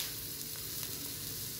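Leftover idli pieces sautéing in a pan, with a soft, even sizzle and faint stirring, fairly quiet and steady.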